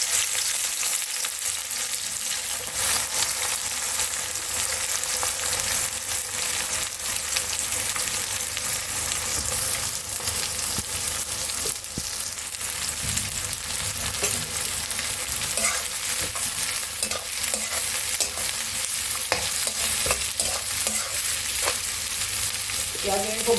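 Chopped onions frying in spiced oil for a Bengali masala mutton curry, a steady close sizzle with occasional scrapes and clicks of stirring running on without a break.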